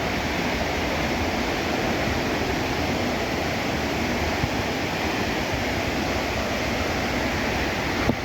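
Steady broadband roar of the Meemure waterfall in Sri Lanka, full with high water, rushing continuously and loudly close by with no break or voices.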